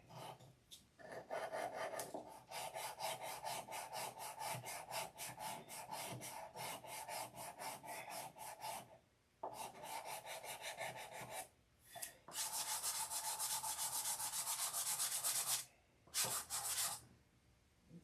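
Steady back-and-forth scrubbing of fine 1000 grit sandpaper over a lightly painted surface, long continuous strokes broken by a few brief pauses, close and fairly loud with no talking.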